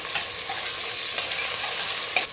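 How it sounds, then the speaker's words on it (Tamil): Ginger paste sautéing in a pan for coconut rice with mutton salna, a constant bright sizzle with a few light stirring scrapes, close and alone. "இஞ்சி பேஸ்ட்டு தேவையான அளவு கொஞ்சம் வதக்கணும்"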